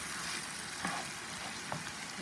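Squash and ground beef cooking in a pan, a soft continuous sizzle at low level with a few faint stirring clicks, no voices.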